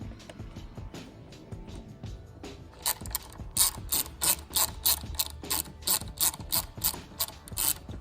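A ratchet spinning in screws on a BMW engine gasket cover, a loud close series of clicking bursts in a quick repeating rhythm, with nobody speaking.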